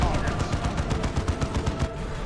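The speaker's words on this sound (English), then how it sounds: "Demolisher cannon. Direct hit." A demolisher cannon firing in the Dawn of War 2 strategy game, a rapid run of sharp explosive bursts in quick succession with a commentator's voice underneath.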